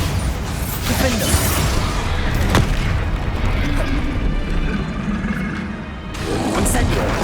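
Spell explosions in Hogwarts Legacy gameplay: continuous heavy booms and crashing blasts that overlap into a loud rumbling wall of sound, with a voice shouting over the battle.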